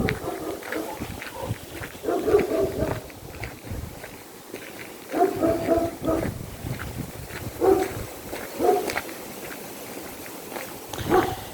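A neighbour's dog barks in bursts at a village home, several clustered barks spaced a few seconds apart, fairly close, with faint background sound between them.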